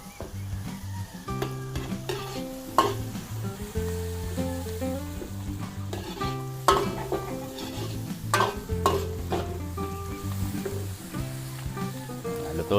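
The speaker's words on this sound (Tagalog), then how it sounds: "Tapos gisa po na, lagay po natin yung ating sibuyas." Onions sautéing in a pan after garlic, a soft sizzle under clattering stirring and scraping of a utensil against the pan, with irregular louder clanks.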